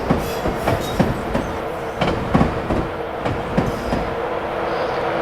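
Model railway GBRF class 92 locomotive hauling a rake of EWS wagons at speed, a steady close rumble with repeated clicking wheel beats over the track joints, no voices.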